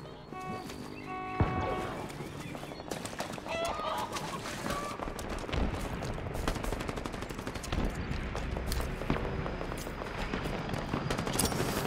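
Dense automatic gunfire rattles without pause through a Halo Infinite multiplayer match, with bursts, single shots and explosions stacked under music and game sounds, loud and close.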